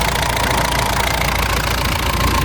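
Close, continuous idle of a Mahindra Bolero diesel engine: an even, gritty mechanical rumble holding at one level throughout, with no speech.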